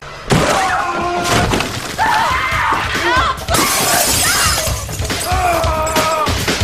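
Glass shatters loudly and repeatedly as a man breaks out of a hotel room in the film Fatal Games, crashing bursts with thuds and strained yells layered over a dramatic soundtrack.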